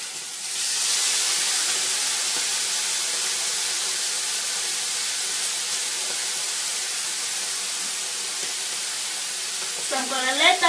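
Meat fries in a pan with a loud, steady hissing sizzle that fills the stretch, and a voice comes in briefly at the very end.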